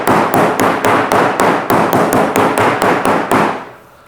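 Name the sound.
hitting a plank hard to test its core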